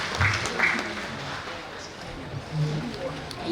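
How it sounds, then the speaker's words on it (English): An audience at a health forum gives a short round of applause, a soft, steady patter of clapping that sounds somewhat distant in a large hall. "A round of applause"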